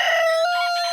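A rooster crows once, loud and close, in a single sustained, tonal cock-a-doodle-doo that fills the whole moment.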